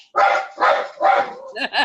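A dog barks loudly and close at someone outside behind the house, three sharp barks in quick succession, followed by a short whine or voice at the end.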